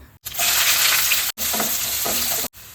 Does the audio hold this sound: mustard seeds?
yes